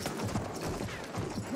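Horse hooves clip-clop in a quick, steady gallop in the video game Battlefield 1, close and fairly loud over busy battlefield noise.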